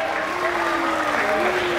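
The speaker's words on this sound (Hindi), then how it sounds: "तालियां तो बजाओ गाइस, कम ऑन मुंबईकर।" An audience at the Mumbai trailer launch of Aho Vikramaarka applauds in a continuous, even wash of clapping, with a faint tonal sound running underneath.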